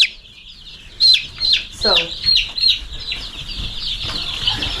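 Barnyard mix chickens give a series of sharp clucks and squawks, close and fairly loud, with a brief spoken word near the start.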